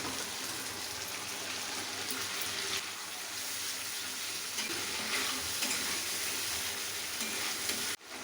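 Mutton frying in a pan for curry, a steady close sizzle with soft stirring scrapes throughout and a brief knock near the end.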